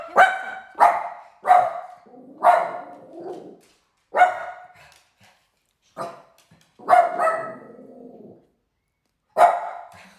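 A dog barks repeatedly in loud, close single and double barks, spaced by short pauses, with a few drawn-out whining barks mixed in and no talk over it.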